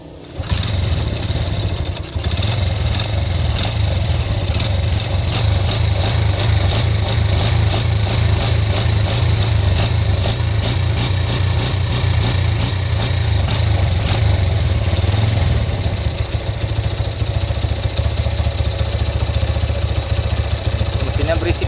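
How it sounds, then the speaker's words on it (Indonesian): A motorcycle engine, freshly tuned after a carburetor adjustment, runs loud and close for about twenty seconds with a steady, noisy clatter and a slight drop in intensity near the end. "Mesinnya berisik ya."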